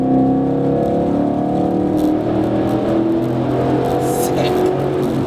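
A 2011-2014 Mustang GT with a Borla exhaust drives through a tunnel, its steady, loud engine drone booming and reverberating off the walls for several seconds.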